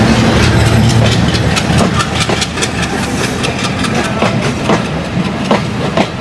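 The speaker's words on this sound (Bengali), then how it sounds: "65-19 সিরিজের লোকোমোটিভ নিয়ে আমরা দেখতে পাচ্ছি আমাদের সামনে থেকে চলে যাচ্ছে রকেট" Rocket Mail passenger train hauled by a 65-19 series locomotive passing close by, heavy engine rumble giving way to steady clickety-clack of wheels over rail joints, loud throughout.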